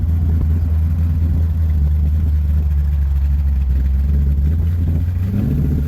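A one-tonner tray truck drives along with a loud, steady low engine drone up close, its pitch holding even and then stepping up near the end, with rushing wind noise laid over it.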